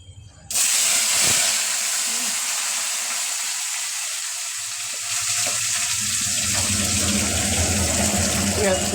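Chopped onion dropped into hot oil with whole cardamom and cinnamon, setting off a loud, continuous sizzle and hiss that starts suddenly and keeps going, with a brief stir partway through.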